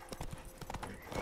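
A horse clip-clops through the woods in The Witcher 3, quick rhythmic hoof beats at a steady gallop-like pace, fairly faint and close, with no talk over them.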